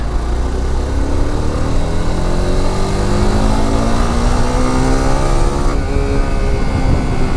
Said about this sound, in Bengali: আর ভাই সিবিআর এর যে সাউন্ড